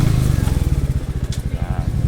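A Royal Enfield Meteor 350 motorcycle thumps at low engine speed in a rapid, even pulse, loud and close as it slows to a stop, with a voice faintly present.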